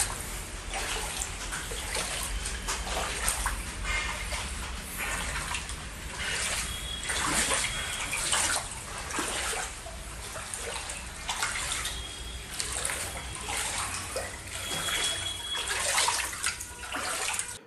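Floodwater from an overflowing metro drain pours into a house in Aluva, a steady rushing and trickling, a continuous wash of flowing liquid with occasional splashes, close and fairly loud.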